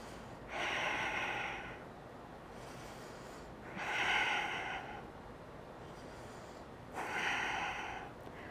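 Three slow, deep breaths during a chair yoga session, each a soft airy inhale or exhale of about a second, evenly spaced and close, with no talking.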